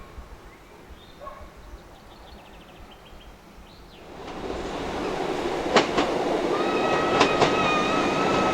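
Train on the scenic Looe Valley branch line in Cornwall, a faint hum at first, then rising as it rolls past with rumbling wheels and several sharp squeals and clanks, with no voices.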